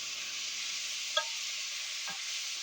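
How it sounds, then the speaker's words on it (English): Onions for butter chicken cook in a pan with a steady, faint sizzle and a couple of soft clicks of stirring against the pan, with no voices. "Let that cook for about 2 or 3 minutes to get it nice and translucent"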